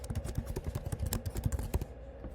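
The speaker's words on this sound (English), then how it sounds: "name the matter by typing in the text box" Computer keyboard keys clatter in a quick, uneven run of clicks while a name is typed into a software text box, fairly close and steady, then stopping near the end with no voices.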